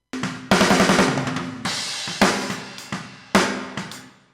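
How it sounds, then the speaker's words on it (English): Recorded snare drum hits with harsh, badly applied EQ, several sharp strikes in an uneven pattern, each ringing with a boxy midrange tone and bright splashy decay, played alone without any voices. "But if somebody gives you a snare and it sounds like this"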